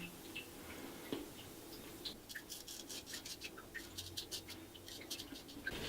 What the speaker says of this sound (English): Now I pull my skin to the left so I can easily shave the right side of my chin.